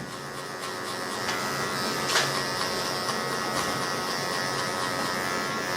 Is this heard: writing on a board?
no